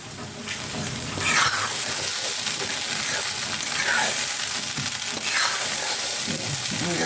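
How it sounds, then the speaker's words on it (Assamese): Flattened rice (chira) tossed and stirred in a pan, giving a steady dry sizzling hiss with repeated scraping and rustling strokes throughout, close and fairly loud. "যেনিবা সুদা চিৰাকেইটা ভাজি দিলে সেয়ে মই এনেকৈ ভাজি দিওঁ"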